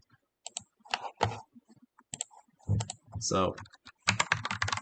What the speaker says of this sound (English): I can just type it.